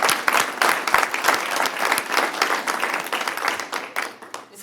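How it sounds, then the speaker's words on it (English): A civic State of the City event audience applauding the Citrus Heights Police Department, with brisk, dense clapping from many hands that holds steady and then tapers off at the end. "Join me in giving them a round of applause for the awards you see listed on the screen"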